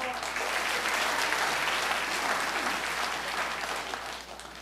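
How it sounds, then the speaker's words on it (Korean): Warm, continuous applause fills a party members' rally hall in Jeonju, a broad crowd clapping steadily and loudly, easing slightly toward the end. "뜨거운 박수 보내주십시오"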